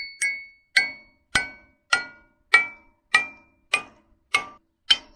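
Hammer striking an iron gate piece on a W260 self-propelled swather, nine sharp metallic clangs at an even steady rhythm, each ringing briefly before the next, loud and close with no talking.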